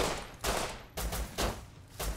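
Rapid bursts of gunfire from the survival video game Rust crack out in about five loud, evenly spaced volleys, close and dense, with no talking over them.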